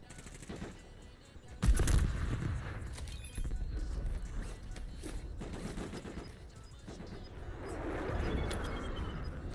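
Video-game gunfire aimed at the player: bursts of automatic fire crackle around a moving character, with one sharp loud volley early and steady rattling shots continuing under background battle noise.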